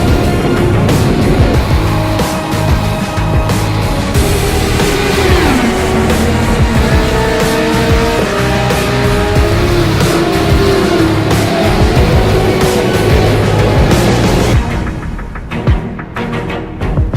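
Race car engines from the sim racing game iRacing, at Watkins Glen in a Radical racing series, roar loudly and continuously, with pitch rising and falling through gear changes and a brief dip near the end.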